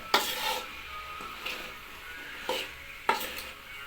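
Bitter gourd, potato and eggplant are sautéed in a pan, with a soft continuous sizzle broken by several sharp scrapes and clinks of a spatula stirring, close by and fairly quiet.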